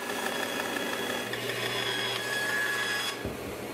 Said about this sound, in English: take the stacked slab over to the bandsaw to make the rough cut